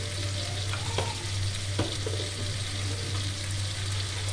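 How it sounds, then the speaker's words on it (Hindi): Green chilli tinda with masala frying in a pan, a steady close sizzle throughout with a few faint stirring knocks. "अब हम इसको फ्राई कर लेंगे।"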